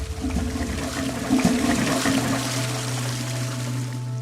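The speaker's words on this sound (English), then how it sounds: "we dispose of enough drinking water to flush a toilet 7 times" A toilet flushes with a steady, close rushing of water that swells briefly partway through and then settles into a continuous gurgling drain.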